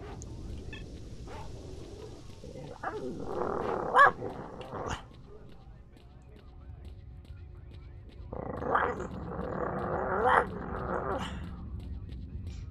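Dogs growl and bark in the S.T.A.L.K.E.R.: Shadow of Chernobyl game, coming in two loud, snarling bursts separated by quieter gameplay noise.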